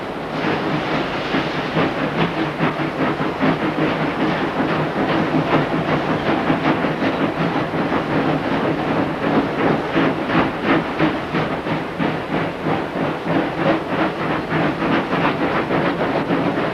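A train heading inland toward George, South Africa, rumbles along steadily with a continuous hissing, rhythmic clatter, loud and close throughout, no voices.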